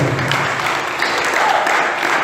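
Church congregation applauding during a sermon, steady dense clapping from many hands, loud and continuous throughout without a break.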